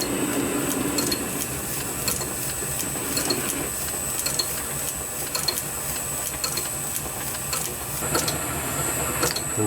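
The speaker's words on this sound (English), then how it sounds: "machine that down nice and square on the back" A metal lathe squaring the back face of an oscillating engine crank part runs with a steady mechanical whir and a regular ticking, clattering rhythm close by, with no talking.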